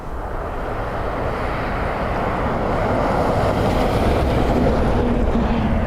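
An airliner landing into a headwind at Dublin Airport gives a steady, broad roar that builds slightly toward the end, mixed with gusty wind buffeting the microphone.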